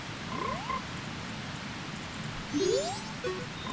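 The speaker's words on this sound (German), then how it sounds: "in Unruhstadt am Waschplatz gibt es auch noch einen Frosch" A frog croaks in Zelda: Majora's Mask at the laundry pool in Clock Town, a few short, chirpy upward-sweeping calls over low game background noise.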